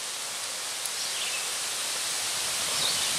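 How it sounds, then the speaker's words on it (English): Wind gusting steadily outdoors around a small fire lit with wax pad fire starters, a continuous broadband rush with slight swells, close and fairly loud, no voices. "It's quite windy, as you can see."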